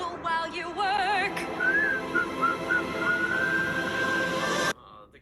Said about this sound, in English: So, whistle while you work.